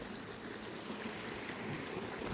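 River water flowing at a quiet, remote riverside spot near dusk, a steady continuous rushing wash at moderate loudness with no voices over it.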